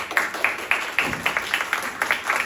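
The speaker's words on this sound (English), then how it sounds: "Please give them a round of applause." Audience applause at a live theatre performance: a steady stream of sharp hand claps in a fairly even rhythm, moderately close and with no talking over it.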